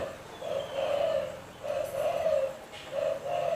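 A spotted dove coos in a cage, three close, clear rounds of soft, low, rolling coos separated by short pauses.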